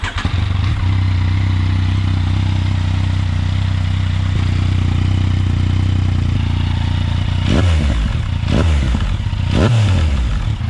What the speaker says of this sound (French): je vais vous la démarrer, vous allez pouvoir entendre la Krapovic